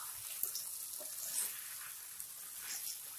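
Crispy fried baby potatoes being stirred and cooked in a spicy sauce in a pan, giving a soft, continuous sizzle with light scraping stir sounds, fairly quiet and without any talking.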